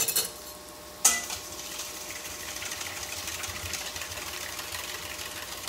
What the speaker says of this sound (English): So I'm just gonna whisk these up.